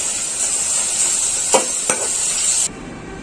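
Onions fry in a hot pan for a Bangladeshi salted hilsa bhuna, a steady loud sizzle with two brief scraping stirs midway before the hiss drops off abruptly near the end.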